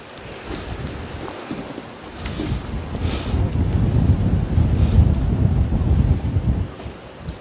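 Wind blows at a fishing spot, buffeting the microphone with a rough low rumble that swells strongly in the middle, then eases, with a hint of water in the background.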